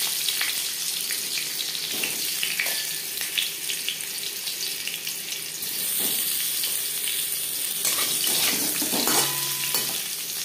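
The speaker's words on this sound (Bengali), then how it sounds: "আলু ভেজে নেব" Potatoes fry in two spoons of refined oil in a kadai wok, a steady faint sizzle and hiss with a few scattered clinks and stirring sounds, no voices.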